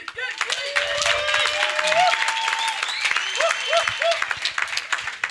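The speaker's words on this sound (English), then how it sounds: "Please clap hands for yourself, guys." A fellowship cohort audience claps for themselves, with sharp, close hand claps mixed with whoops, cheers and voices rising over the applause throughout.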